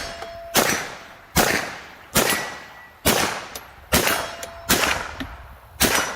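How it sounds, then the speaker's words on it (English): A steel gong set back in the woods is struck by 9mm carbine rounds, giving six sharp shot-and-clang impacts at roughly one-second intervals, each ringing briefly before the next. "Hit that gong back in the woods."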